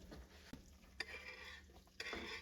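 Shallots cooking in butter in a pot, with a utensil scraping and stirring against the metal in a few distinct strokes over a soft, steady sizzle.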